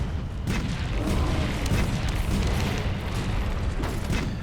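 Heavy cannon fire rumbles through a Monster Hunter World hunt against Zorah Magdaros, a dense, continuous barrage of deep booms and blasts with no clear gaps, loud and close throughout.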